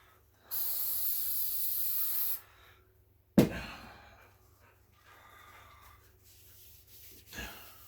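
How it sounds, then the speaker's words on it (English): Spray paint sprayed onto model railroad track, a steady close hissing burst of about two seconds, followed by a sharp clack and a short faint hiss later. "it's pretty much a common thing these days where people use spray paint"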